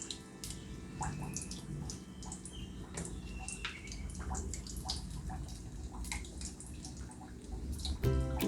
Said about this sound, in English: Please make sure that you wash the potatoes really well